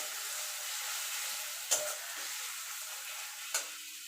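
Ginger-garlic paste fries in a pan for a chicken curry, a soft, even hiss broken by two sharp utensil taps a couple of seconds apart, close and quiet.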